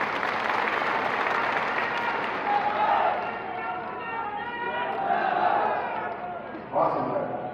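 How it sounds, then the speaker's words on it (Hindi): Applause and cheering from an audience at a Banjara community conference in Aligarh, a steady dense wash of clapping through the whole stretch with a brief swell near the end. "आप सबकी तरफ से बहुत जोरदार तालियां।"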